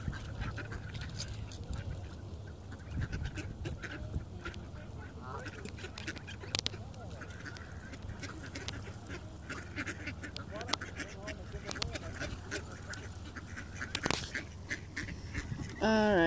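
Ducks and geese being fed outdoors on a cool, windy afternoon, with scattered quacks and honks throughout against steady wind and background noise, and people talking at times.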